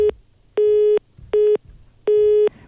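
A telephone busy tone heard alone after a dropped call on a radio show: four loud, clean steady beeps with short silent gaps between them.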